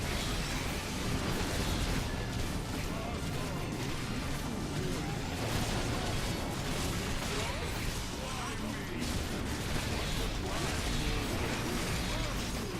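Fireball explosions hit frost ogres in the video game Orcs Must Die, a dense continuous roar of blasts, whooshes and mechanical clatter that stays loud and steady throughout.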